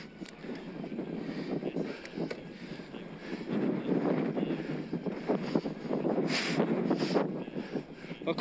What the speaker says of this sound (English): Super windy, my knees are freezing.